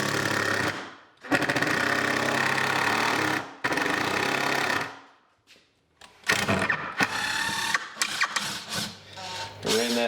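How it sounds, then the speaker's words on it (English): Power driver running screws into a wooden anvil stand, with long sustained whirring bursts, a brief pause, then shorter stuttering bursts of driving close by, no talking. "So I'm going to take our 3 screws now."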